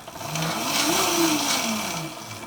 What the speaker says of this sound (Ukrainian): можна бачити, двигун працює